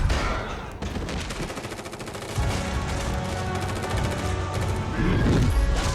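Gunfire from a Stranger Things Season 5 episode: dense, rapid bursts of shots blur into a continuous loud barrage, with deeper booms and rumbling underneath throughout.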